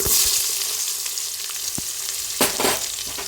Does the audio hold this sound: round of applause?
no